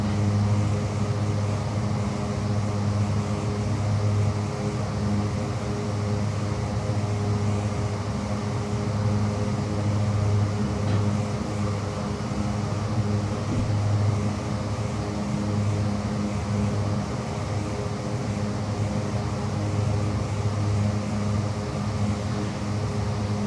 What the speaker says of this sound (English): I like those big engines, making all that noise.